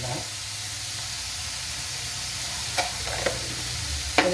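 Chopped tomatoes and grated carrot sauté in a hot pan for a carrot chutney, giving a steady, close sizzle and hiss. A few spoon-against-pan clinks come near the end.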